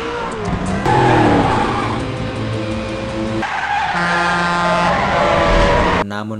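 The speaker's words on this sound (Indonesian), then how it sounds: "di belakang mobil James terlihat jika ada mobil lain yang membututinya. Ya, ialah The Killer. Kejar-kejaran pun terjadi secara sengit" Cars in a chase scene from the 2010 film Faster roar continuously with loud engines and skidding, squealing tires, ending with an abrupt change in the sound.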